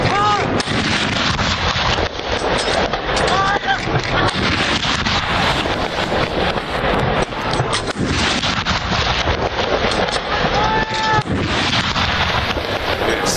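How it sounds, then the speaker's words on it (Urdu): A 21-gun cannon salute fired on Pakistan Day booms in loud, repeated blasts, heavy and broadband, with strong wind rumble across the microphone. "21 توپوں کی سلامی دی گئی"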